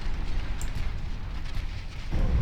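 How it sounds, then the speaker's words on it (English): Torpedo hits exploding against warships in the naval battle game Ultimate Admiral Dreadnoughts, heard as a steady low rumbling roar of blasts that swells into a heavier boom near the end. "This will be our first torpedo hits of the battle."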